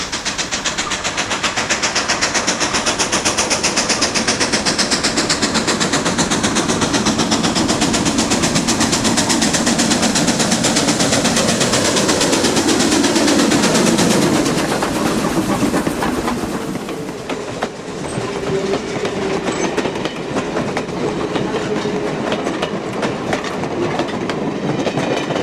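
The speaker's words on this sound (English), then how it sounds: "The 2 remaining locomotives put on a good show for the photo line." Steam locomotives of the Niles Canyon Railway make a run-by past a photo line at a steamfest, a loud, close roar of exhaust and rolling cars with clickety-clack wheels and brief squeals, swelling then easing as the train passes.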